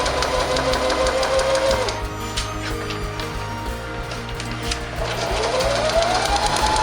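Domestic sewing machine stitching a quarter-inch seam around a green Celtic shamrock mug rug, a steady close motor whir with rhythmic needle ticking that dips quieter midway and then picks back up, with no talking.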